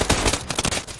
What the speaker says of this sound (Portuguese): que tiro lindo, Felipe.